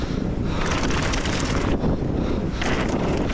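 Strong gusting wind roars steadily across the microphone at a bike park, a loud, continuous broadband rush with surges and dips and no talking.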